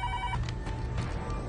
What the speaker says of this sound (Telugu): ఫోన్ చేయి.